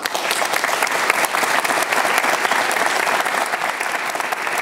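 A studio audience applauds a Serbian TV interview with President Aleksandar Vučić: dense, steady clapping from many hands, loud and close, continuing without a break for the whole stretch.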